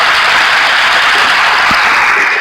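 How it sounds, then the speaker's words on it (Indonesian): Dense, steady applause from an audience at a religious discussion event fills the whole moment, a continuous wash of clapping from many hands with no voices rising above it. "Kita kasih tepuk tangan ya."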